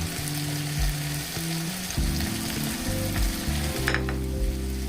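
Ground chilli, cumin, turmeric and coriander sizzling loudly in a pan for a Bengali small puti fish curry, a continuous close fry with stirring scrapes and a brief bright splash near the end.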